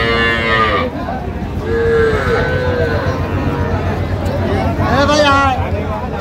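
A calf at Raniganj cattle market in Dinajpur lets out several loud, close moos against a steady crowd hubbub, with people talking nearby throughout.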